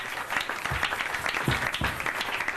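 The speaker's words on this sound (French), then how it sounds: "Acclamez très fort." A church congregation applauding loudly together, a dense, continuous wash of clapping that fills the whole stretch with a few low thumps underneath.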